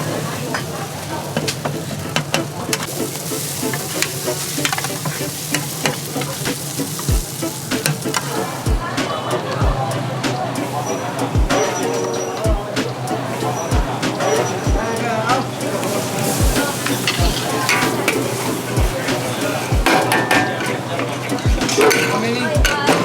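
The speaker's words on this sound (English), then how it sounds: "She's just got one pan frying up the rice cakes there" Rice cakes sizzling in a pan with clinks of utensils and a regular low thumping, amid busy street noise and people talking nearby at a Penang street food stall.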